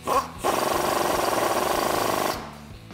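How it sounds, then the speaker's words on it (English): Rapid rattling whir of a ratchet or impact tool driving an 18mm swivel socket to tighten bolts during a Jeep Gladiator JT lift-kit install, close and continuous for about two seconds before stopping abruptly. "I'm using that swivel socket again, and we can tighten those up."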